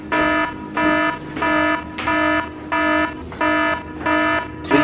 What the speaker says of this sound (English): Warning! Warning! The fire alarm system has been activated.